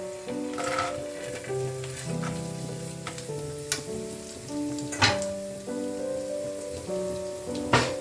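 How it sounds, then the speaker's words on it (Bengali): Peanuts and urad dal sizzle and crackle steadily in a hot pan for mango rice, with occasional louder pops and stirring scrapes over soft background music. "এটাকে ভালো করে একটু ভেজে নেব।"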